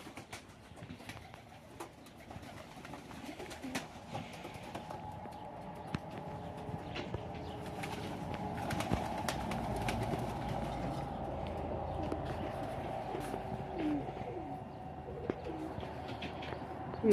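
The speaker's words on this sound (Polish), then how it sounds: "A tutaj gołębie dalej pracują." Ornamental pigeons coo softly and repeatedly in a loft, a low, steady murmur of overlapping calls with occasional light clatter and shuffling.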